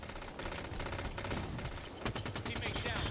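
Gunfire crackles through a Halo 5 Guardians multiplayer match, continuous rapid automatic bursts that get sharper and more distinct toward the end, with speech mixed in.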